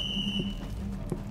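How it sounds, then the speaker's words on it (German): A high, steady electronic beep rings out in the video game Rainbow Six Siege, holding for about half a second before fading under a low hum of game ambience and faint thuds. "So viel Gepiepe."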